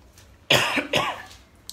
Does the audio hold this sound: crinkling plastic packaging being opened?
no